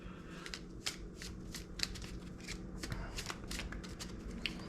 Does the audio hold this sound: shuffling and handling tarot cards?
yes